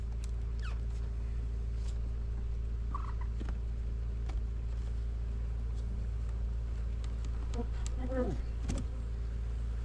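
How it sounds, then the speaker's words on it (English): Honey bees packed into a nucleus hive box make a steady, low, continuous drone close up, with a few faint chirps and scrapes scattered over it. "what we've got here is a nucleus that's full of bees that need to go into a hive"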